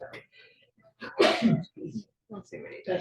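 A single sharp sneeze bursts out close by in a home conversation, loud and abrupt, with people talking just before and after it.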